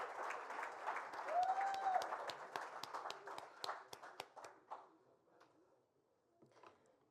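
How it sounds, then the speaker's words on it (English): A teachers' conference audience applauds, the clapping loud and dense at first, then thinning into scattered claps that fade to near silence before a few last claps. "That deserves a next round of applause."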